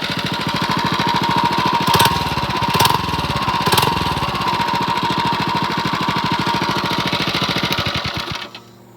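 A small mini bike engine, a CT100U fitted with a 79cc head, runs loud and close with a rapid steady putter and a few brief revs before cutting off near the end.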